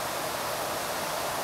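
Waterfall at a historic water mill on Hop Brook in Simsbury, Connecticut, a steady broadband rush of falling water, even and unbroken throughout.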